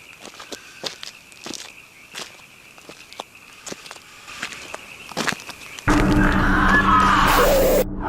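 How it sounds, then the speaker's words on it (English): Footsteps crunch in the dark near a trail camera, irregular and fairly close, followed near the end by a sudden sustained burst of loud noise that drowns everything else. "The sounds of footsteps can be heard in the darkness near the trail cam"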